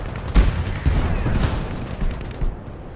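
Tank gunfire in the War Thunder video game, with a Leopard tank opening fire: a heavy cannon boom near the start, then further bursts and impacts amid steady rumbling battle noise.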